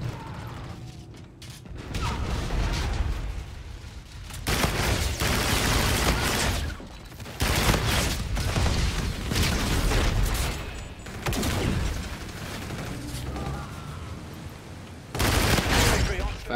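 Rapid automatic gunfire from a fast-firing gun in Call of Duty: Infinite Warfare, loud sustained bursts separated by short pauses, with mechanical clatter and game effects mixed in.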